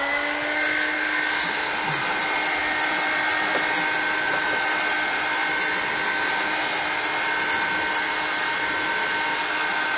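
A heat gun blows steadily against a plastic tool box, a loud, continuous whirring hiss that holds without pause throughout, close by and alone.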